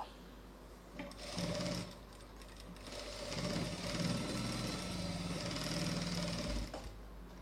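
A sewing machine stitches a designer blouse, its motor humming and needle thumping in rapid, continuous bursts close by, starting and stopping a couple of times over a low steady drone.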